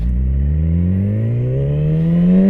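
A motorcycle engine revving loud and close as the bike pulls away, pitch rising steadily over a couple of seconds with no speech.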